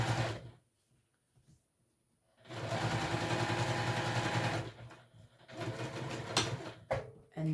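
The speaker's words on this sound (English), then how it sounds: "I'm just top stitching across that." A sewing machine top-stitches across a pressed raw edge in short bursts of buzzing whir, separated by quiet pauses, fairly close and moderately soft.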